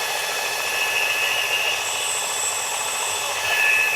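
An Ozark Trail knife blade is drawn across a sharpening surface, making a continuous high, hissing grind that stays close and steady with no talk.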